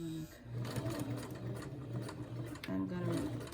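An embroidery machine back stitches a crossbody bag, a close, rapid mechanical whirring hum that runs almost continuously with a short pause at the start and a shift in pitch near the end.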